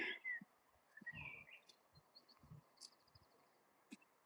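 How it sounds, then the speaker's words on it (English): Birds chirp and call faintly in the distance, brief tweets scattered over soft outdoor rustling. "Do you hear the bird song?"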